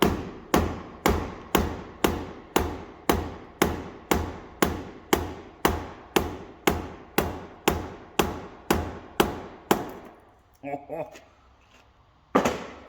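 A hammer taps a Yoshimura motorcycle muffler to knock the packing loose, about twenty sharp metallic blows in a quick, regular rhythm, followed by a short pause, faint shuffling and one final hit.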